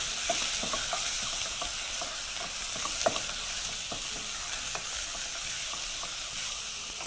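Beef pieces and spices frying for biryani, stirred in a pot with a continuous soft sizzle broken by frequent close clacks and scrapes of a spoon against the pan, no voices.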